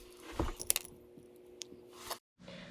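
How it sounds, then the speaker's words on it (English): Small pebbles drop into a glass jar terrarium, giving light clinking, rattling taps scattered over a couple of seconds, fairly quiet and close, with a brief silence near the end. "Now I'm going to add some small pebbles just for a little bit more detail."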